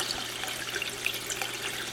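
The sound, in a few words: Aqualifter pump spitting water and air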